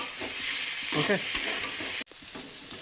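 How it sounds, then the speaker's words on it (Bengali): Onion, ginger and cumin paste being sautéed for a rui fish curry, a steady close sizzle with scraping stirs over it, one sharp clack near the end and then the frying continues. "এবার একসাথে ভালো করে আবারও কষাতে হবে সুন্দরভাবে।"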